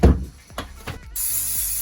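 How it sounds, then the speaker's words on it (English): Cleaner sprayed from an aerosol can onto a Paslode first-fix nail gun, a steady hissing burst in the second half after a few light handling knocks. "Just spray everything."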